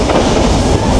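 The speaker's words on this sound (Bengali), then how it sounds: "বনলতা এক্সপ্রেস দুর্দান্ত গতিতে ঢাকা থেকে রাজশাহীর উদ্দেশ্যে ছুটে চলছে আমাদের বনলতা এক্সপ্রেস" A brief burst of the Banalata Express speeding from Dhaka to Rajshahi: loud, close rolling rumble and wheel clatter with no talking.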